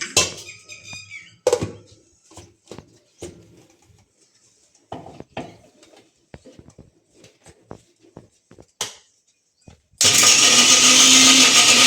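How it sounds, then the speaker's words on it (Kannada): A few scattered clicks and knocks, then a mixer grinder starts up and whirs loudly and continuously near the end, grinding a fine paste for pineapple sambar. "ಈಗ ಇದನ್ನು ತುಂಬ ತರಿಬೇಡ, ನುಣ್ಣಗೆ ರುಬ್ಬು."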